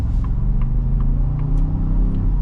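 A Ford F-150 Tremor pickup with a V8 drives off, its steady low engine rumble and road noise continuous throughout, fairly close and without voices.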